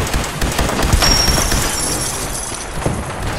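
Gunfire in Fallout 4 erupts in a dense, sustained volley, loud and close, with sharp cracks layered through a continuous roar of battle noise.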